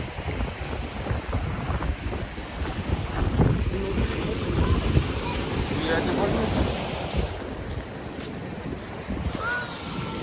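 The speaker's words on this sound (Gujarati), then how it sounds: "દરિયા કિનારે ઉભો છું ફૂલ પવન આવે છે" Steady surf and strong wind buffet the microphone at Porbandar Chowpatty beach, waves washing continuously close by with no one speaking.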